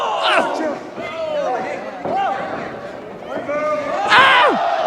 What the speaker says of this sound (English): And the crowd is really coming alive here.